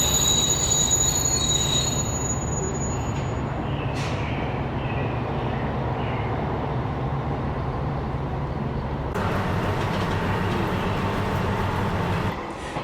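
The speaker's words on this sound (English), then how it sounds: "The gentle and somewhat nostalgic engine rumble of this local diesel train echoes pleasantly across the elevated platform." A local diesel train on Japan's JR Dosan Line rolls steadily along the rails with a continuous low rumble and metallic wheel noise, loud and close, echoing across an elevated platform, with no voices.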